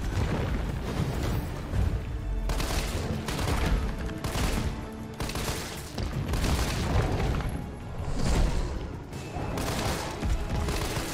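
A shotgun fires repeatedly in the video game Resident Evil 3 Remake, heavy booming blasts recurring every couple of seconds over a dense, rumbling game soundscape.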